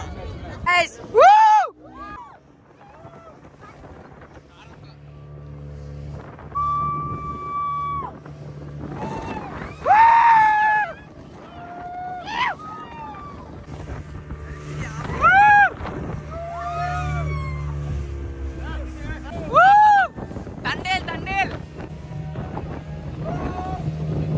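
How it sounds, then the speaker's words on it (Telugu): A speedboat ride on the sea off Shivrajpur Beach in Dwarka: a steady low engine drone and wind buffeting run throughout under frequent loud talking and exclamations from passengers. "బోట్ డ్రైవింగ్ అయితే చాలా బాగుంది అసలు. Boat ride, speed boat ride."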